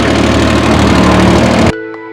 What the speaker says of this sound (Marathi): ट्रॅक्टर चालू होत नाही ते म्हणते, एकदा ट्रायल करू.